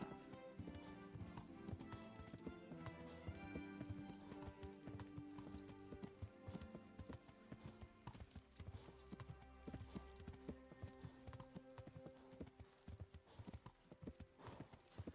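Horse hooves trot in a steady clip-clop rhythm throughout, a ridden horse in the medieval game Kingdom Come: Deliverance, with an occasional whinny over layered game music and ambience.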